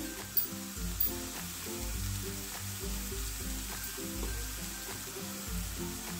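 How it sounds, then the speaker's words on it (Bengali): Vegetables frying in oil in a pan for a school tiffin breakfast dish, a steady close sizzle with a low crackling bed throughout, plus a couple of brief clinks near the start. "সবজিটা ভাজা ভাজা হয়ে এসেছে।"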